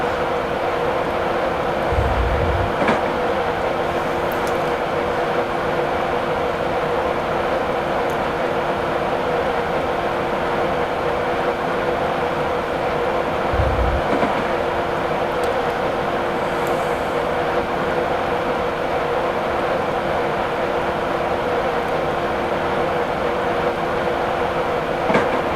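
In Train Simulator 2017, a train runs over a viaduct on the East Coast Main Line, a continuous rumbling drone with a steady hum and a couple of soft thumps from the track.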